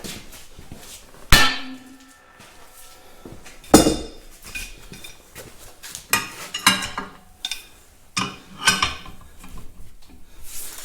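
A hammer strikes a part of a Caterpillar D2 final drive, several loud metallic clangs spaced irregularly with ringing tails and smaller clinks between, close by and without talking.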